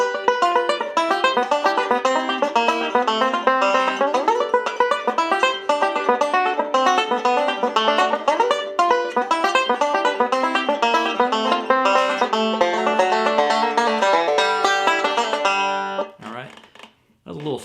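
Rapid, bright banjo picking runs nonstop through a walk-down with hammer-on pull-off licks, dense and close, then breaks off abruptly near the end.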